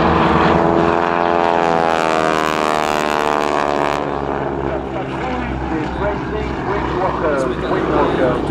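Propeller airplanes performing aerobatics at an air show with wing walkers, a loud, continuous engine drone with a shifting, sweeping pitch as the aircraft pass, close and steady throughout, with talk over it.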